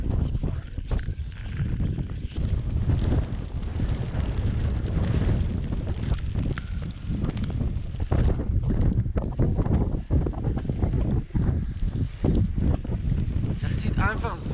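Strong mountain wind buffets the microphone in heavy rumbling gusts, roaring almost continuously with brief lulls.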